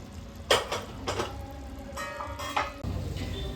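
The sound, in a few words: adding cooked rice into pork biryani pot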